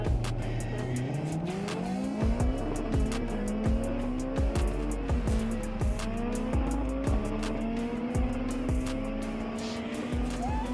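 A turbocharged Honda S2000 making a second gear pull: a loud engine rising steadily in pitch with a steady tire squeal and repeated sharp pops over it, close and continuous.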